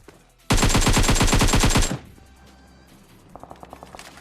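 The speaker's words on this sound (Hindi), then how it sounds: "यहाँ पे जॉर्जपुर से कुछ फायरिंग का आवाज आता है" Automatic gunfire in Battlegrounds Mobile India as two squads fight: a loud, fast burst of roughly a dozen rapid shots lasting over a second, followed by a fainter, more distant string of shots.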